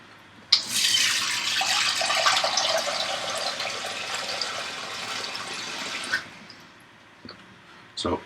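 Tap water gushes into a cooking pot for pasta, a steady hissing pour that begins abruptly, runs for several seconds close by, then cuts off, followed by a couple of clunks.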